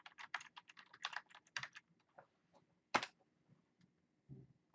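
Keystrokes on a computer keyboard while entering a babysitter text label, in quick bursts of close clicks with short pauses between runs.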